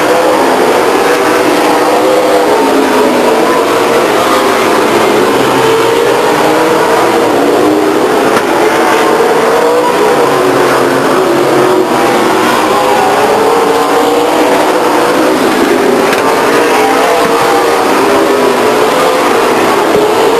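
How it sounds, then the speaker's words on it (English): Race cars lapping Stockton 99 Speedway in a mid-race event, a steady loud roar of several engines with sweeping pitch changes as cars pass, continuous with no talk. "He'll lap the Hernandez 29 car"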